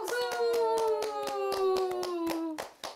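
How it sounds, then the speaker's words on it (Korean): A family at a home birthday celebration claps in a quick, uneven rhythm close by while someone holds a long sung or called-out note over the clapping, which ends with a short breathy cheer. "박수"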